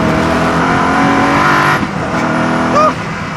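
A Koenigsegg Agera R sports car engine drones loud and steady at high revs, easing briefly before picking up again, close and dominant with no talk.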